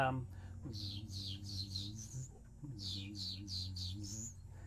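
Recorded birdsong: bright repeated chirping phrases in two bursts over a low musical drone, fairly loud and steady.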